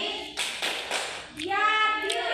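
A few sharp hand claps for the tepuk mandi clapping game come in short bursts, close and fairly loud, with voices chanting along between them.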